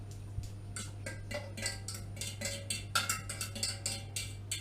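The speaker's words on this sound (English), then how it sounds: "Stir it round." A utensil scrapes and taps against a pan while potatoes for a Spanish omelette are stirred, giving light irregular clinks over a steady low hum, fairly quiet and close.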